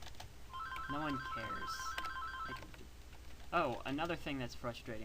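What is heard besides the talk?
phone ringing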